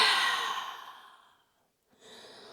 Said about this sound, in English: Open up the mouth. Exhale.